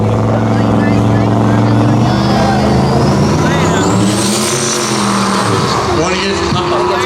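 Pickup trucks roar down a dragstrip at a spectator drag night, a loud rising engine whine that climbs in pitch as they accelerate past, with an announcer talking over the noise.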